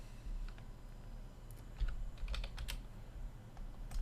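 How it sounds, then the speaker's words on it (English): Fingers tap on a computer keyboard while a kitchen sink is modeled in 3D Studio Max, giving light, irregular clicks in short bursts over a low steady hum. "Having a bit of trouble here with my keyboard."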